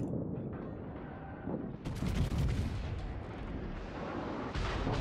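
Heavy gunfire in World of Warships, rumbling low booms that build into a loud, sharp salvo midway and then roll on in sustained thunder, with another blast near the end.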